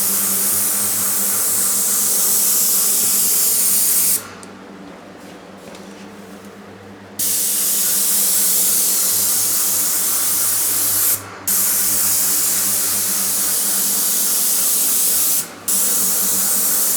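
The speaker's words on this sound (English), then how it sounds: "get it all sprayed up, and get this first coat of primer on" A paint sprayer laying down a first coat of primer, a loud steady hiss that cuts out for several seconds, resumes, then stops briefly twice more, with no talking.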